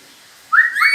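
A person whistles loudly in a single short rising note with a quick upward slide, up close after near silence.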